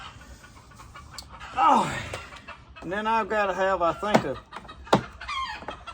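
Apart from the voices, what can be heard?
chickens clucking and squawking after being fed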